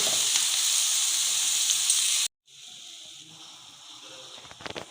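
Mixed vegetables fry in a pan over medium heat, a steady close sizzle that cuts out abruptly midway, then resumes more quietly with a few scraping stirs near the end.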